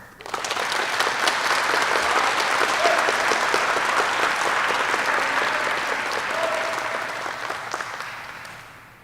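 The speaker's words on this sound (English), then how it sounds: "please help me in congratulating these graduates receiving their wings and insignia today with another round of" Sustained, loud applause from the audience at a U.S. Army Aviation advanced individual training graduation ceremony, congratulating graduates receiving their wings and insignia, steady and dense for about nine seconds before tapering off.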